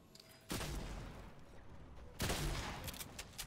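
Minigun fire in the game Fortnite, two sustained roaring bursts of rapid automatic shots, the first about two seconds long and the second stronger, heard at moderate distance with no talk.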